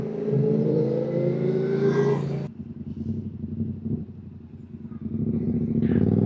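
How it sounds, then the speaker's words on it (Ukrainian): A motorcycle engine idles and revs with a rough, rumbling exhaust, loud at first, dropping briefly, then rising again. "цей вихлоп, це щось страшне"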